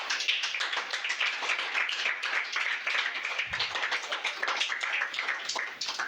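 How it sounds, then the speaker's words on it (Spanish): A church congregation applauds steadily throughout, a dense continuous wash of many hands clapping at moderate loudness with no voices standing out. "Denle un aplauso al Señor."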